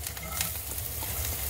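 Onion added to a pan of hot oil with ginger and chili over a low flame, crackling in a steady, close, dense sizzle with no talk.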